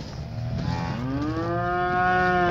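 Cattle being brought home moo in a long, rising, resonant call lasting a couple of seconds, close and loud with faint farmyard noise behind it.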